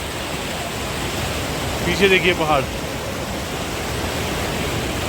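Cold mountain stream water rushes steadily in a broad, loud, hissing wash beside a Ladakh trekking route, with someone speaking briefly over it partway through.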